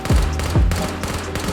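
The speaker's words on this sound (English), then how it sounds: "with the MP7, I would say just tap fire like that" MP7 tap fire in the shooter game Ghosts of Tabor: two or three quick, punchy shots in short succession, close and loud, followed by fading echoes.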